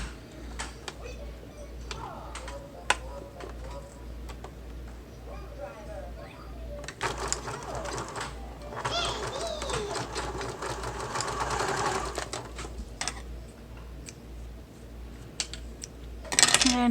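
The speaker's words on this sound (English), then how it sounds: "I'm sewing my right side to the top of the zipper with a 1/4 inch seam allowance" A sewing machine stitches a bag's right side panel to the top of a zipper with a 1/4 inch seam allowance, its motor whirring in short bursts and a longer steady run in the middle, with faint clicks and light handling noises around it.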